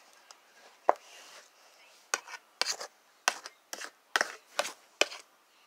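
Rough rasping cuts through a Bolt DVD, about eight short scraping bursts in an irregular rhythm, fairly close and moderately loud, with no talking.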